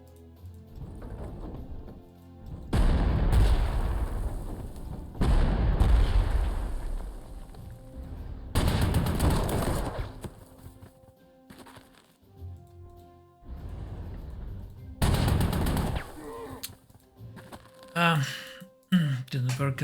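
Artillery and gunfire from a Panzer Corps 2 battle against conscript infantry, heard as several loud, booming bursts in separate clusters, with someone talking between and over the blasts.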